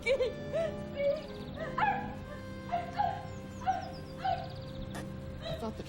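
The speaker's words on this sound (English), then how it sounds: "Damn thing probably barked itself to death." A dog yips and whimpers in a rapid series of short, high barks, close and fairly loud, with a steady hum underneath and no talk.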